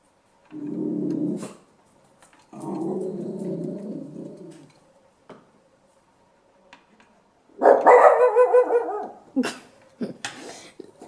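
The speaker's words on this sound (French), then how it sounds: "Désolée, c'est mon chien." A pet dog barks indoors during an elastic-band craft demonstration: a few short bursts and a longer run of barks, fairly close and clear, with no talk over them.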